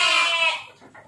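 A sheep in a pen at a modern livestock farm in Banyuwangi gives one loud, close, wavering bleat that fades out after under a second, with no talk over it.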